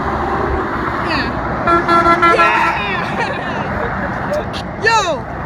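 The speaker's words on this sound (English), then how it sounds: "Oh, we got some honks." Trucks on a busy freeway sound their horns below a bridge, with a couple of short, loud honks among traffic noise and excited voices of people cheering nearby.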